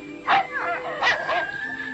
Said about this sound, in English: And a faithful dog.